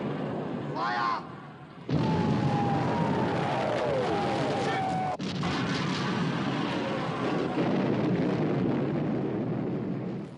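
Naval gunfire and shell hits in a wartime sea battle: a quieter stretch gives way to a sudden heavy blast, followed by a sustained loud roar of battle noise and a sharp crack midway.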